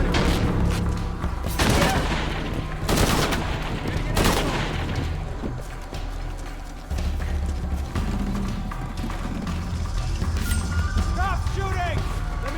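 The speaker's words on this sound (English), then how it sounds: "Stop shooting!" Gunfire in the Shadow of the Tomb Raider video game, with a few heavy, booming bursts of shots in the first seconds over a constant loud battle din, with voices calling out during the fighting.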